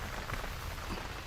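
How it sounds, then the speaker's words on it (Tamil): Rain pours down during outdoor cooking, a dense continuous hiss with soft irregular patter close by and no voices over it. "நம்ம சமைக்கிற அன்னைக்கு தான் மழை வரணுமா?"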